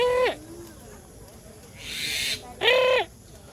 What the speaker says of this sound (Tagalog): Ayun yung ibon.